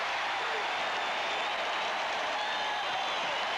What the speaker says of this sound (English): Sonic crowd going crazy,